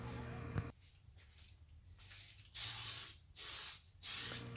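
Primer sprayed from a rattle can onto an RC car hardbody, a Blitzer Beetle: three loud, steady hissing bursts, each about a second long with short gaps between, after a quiet stretch.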